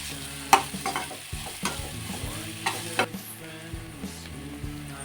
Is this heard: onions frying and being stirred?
yes